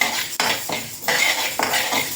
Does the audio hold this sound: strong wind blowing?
no